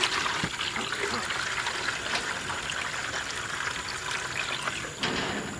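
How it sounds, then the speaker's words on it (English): Water running steadily on a pig farm, a continuous faint trickle and splash filling a drinking spot, with someone talking briefly over it. "let's go make sure Tipper and Company's got water"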